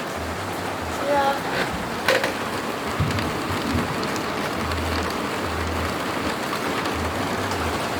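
Steady rain patters on a sailboat anchored in the tropical San Blas islands, a broad continuous wash of drops with a few louder hits and low rumbles, close and even throughout.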